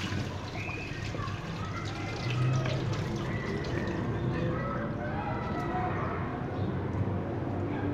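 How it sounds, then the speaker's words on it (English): Washed sushi rice being drained, a steady trickle and patter of water pouring from the grains, running continuously at close range. "Now I will take out all the water from the rice."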